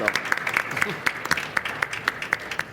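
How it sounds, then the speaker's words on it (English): Scattered clapping from a small audience, a handful of distinct claps repeating unevenly for a few seconds. "So please give them a round of applause for being part of us here."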